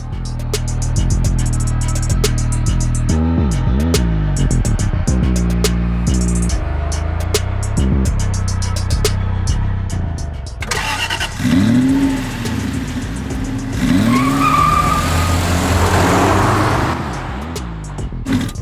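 McLaren 720S on the move, its engine rising through mid-range pitches in repeated accelerating sweeps, loud and close, with a rougher, noisier roar in the later part.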